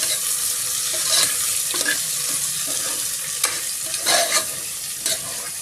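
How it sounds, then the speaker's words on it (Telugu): Onions with masala, cumin and mustard seeds fry in oil for chicken pulao, a steady close sizzle broken by repeated stirring scrapes and small pops, with no one speaking. "ఇప్పుడు ఆనియన్ వేసేద్దాం. ఒకసారి కలుపుకుందాం."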